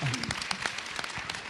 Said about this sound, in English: One more round of applause for Peter.